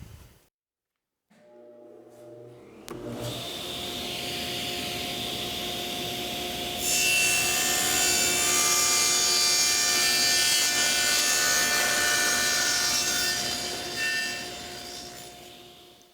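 Table saw with a sled: the blade spins up after a brief quiet moment, then whines loudly and steadily as it cuts through wood pieces for several seconds before winding down.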